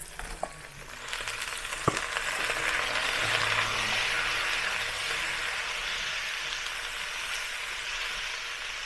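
Pork ribs and corn are dropped into a hot wok with browned aromatics for scallion-braised ribs, and a loud, steady frying sizzle builds after a few small clanks and holds without talk.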